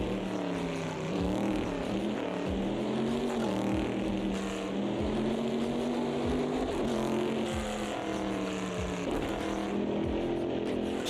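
Aston Martin race car engine in a racing video game, braking hard from 70 mph into a corner with loud, sustained engine tone sweeping up and down through repeated downshifts and blips, close and continuous with no talk.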